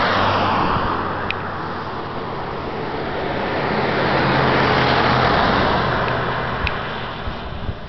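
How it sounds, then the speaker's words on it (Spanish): Cars roll past on a road near Mount Baldy, building to a steady broad roadway hiss that swells and fades gently as the vehicles go by, with no voices. "carros pasando"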